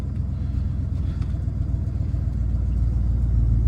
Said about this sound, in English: we're going to take the 1965 old Starfire out for a drive